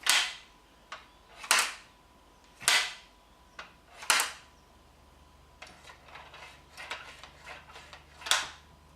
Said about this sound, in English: That is one of the smoothest bolts I've ever had on any rifle that I've owned.